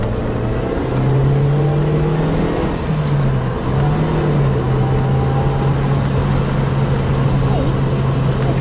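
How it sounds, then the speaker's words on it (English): Suzuki Jimny 1.3 accelerating in second gear from inside the cabin, a steady engine drone that climbs in pitch and holds, loud and close, with a voice speaking over it at times. "Let's see how it accelerates."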